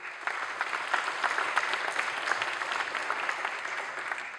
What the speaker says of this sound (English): Round of applause for Francis.